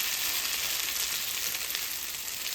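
Zucchini and coconut flour pancakes sizzle steadily in a non-stick frying pan, a constant loud crackling hiss with no pauses and no voices.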